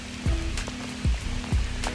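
Rain falls steadily on a trail during a run with a dog, a close, continuous patter broken by a few heavier thuds.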